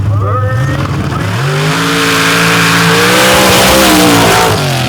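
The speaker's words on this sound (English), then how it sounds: "612 cubic inch Keith Black Oldsmobile with 3 kits of nitrous" A 612 cubic inch Keith Black Oldsmobile dirt drag car running three kits of nitrous launches hard, its loud engine climbing in pitch as it accelerates away, with a continuous roar throughout.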